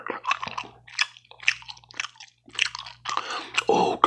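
Gum is chewed close to the microphone in a whispered ASMR setting, with moist, squishy, irregular smacks and clicks coming in quick bursts separated by short pauses, the last second louder and denser.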